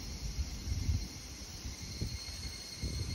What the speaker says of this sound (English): These are really pretty cicadas. And their sounds certainly are very pretty as well.